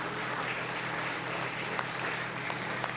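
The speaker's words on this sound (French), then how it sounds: "Applaudissements." Conference audience applause for an expert introduced on stage, fairly faint and steady clapping heard at a distance over a low hum.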